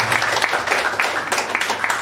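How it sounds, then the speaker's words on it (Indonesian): A church congregation applauds during a Sunday service, dense clapping that stays steady and fairly loud through the whole two seconds with no pauses. "Berikan tepuk tangan yang meriah buat kami."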